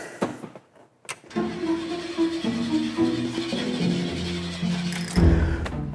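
A carbureted car engine is cranked with a couple of short tries, then catches at around one second and runs at a rough, uneven idle before a louder rev near the end.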